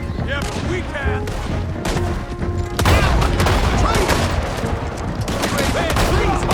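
Rapid gunfire rattles through a Red Dead Redemption 2 shootout, bursts of shots overlapping with shouted voices and a sudden louder volley midway.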